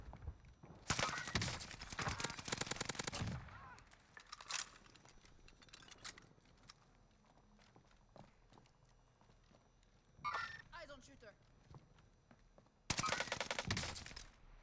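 KG M40 rifle gunfire in a video game comes as two dense, rattling bursts of rapid shots, the first lasting a couple of seconds and the second near the end, with quieter scattered clatter between them.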